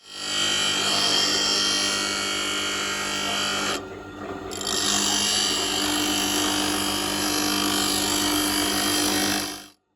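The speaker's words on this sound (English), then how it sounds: "he steps away to the grinder" A bench grinder sharpens a steel woodturning tool, putting out a loud, steady broadband whine that drops out briefly partway through and then resumes and carries on to the end.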